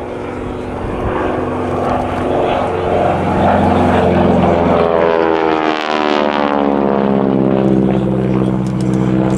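A T-6 Texan flying aerobatics roars loudly with a throaty radial-engine propeller drone that swells and shifts pitch as the plane passes overhead, a sustained close rumble throughout.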